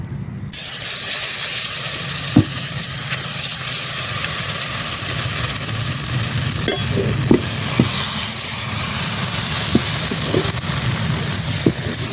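Patishapta batter, made without rice flour, is stirred in an overheated wok. A loud, steady sizzle and hiss runs throughout, broken by occasional light scrapes and taps.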